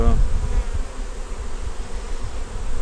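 Honey bees hum at an 8-frame hive in a dense, continuous buzz close by, a steady swarm drone without pauses.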